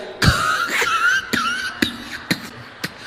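Several short, harsh coughs in a row, loud and close, spaced irregularly and getting quieter toward the end.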